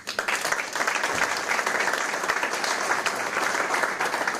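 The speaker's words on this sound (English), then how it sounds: "We just clapped for you" Steady applause from an audience at a school board of education meeting, many hands clapping in a dense, even patter at moderate distance for several seconds.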